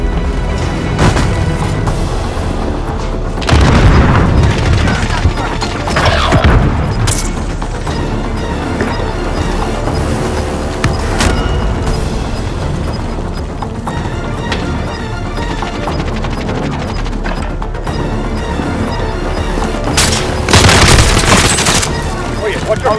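Rapid automatic gunfire in Call of Duty Warzone on Rebirth Island, loud bursts and booming impacts over a dense, continuous battle din, with heavier volleys recurring every few seconds and mechanical clatter between them.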